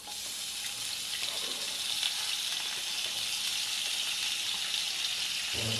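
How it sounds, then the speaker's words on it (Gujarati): Pieces of raw gunda berries drop into hot oil seasoned with asafoetida, producing a steady, even hiss of frying that holds throughout at a moderate level. "વઘારમાં હિંગની સુગંધ આવવા લાગે એટલે તેમાં ગુંદાના ટુકડા ઉમેરી દઈશું."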